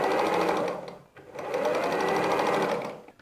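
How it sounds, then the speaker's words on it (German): A sewing machine runs steadily, stitching four patchwork side pieces of fabric together in one seam, in two continuous bursts with a brief pause between, fairly quiet and close, with no voices. "Wir nähen alle 4 Seitenteile in einer Naht zusammen."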